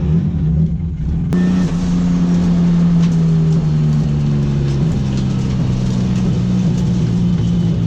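A turbocharged BMW E36 drives a slow cool-down lap; a steady, loud mid-pitched engine drone holds throughout after a brief quieter opening, with slight shifts in pitch and no talk.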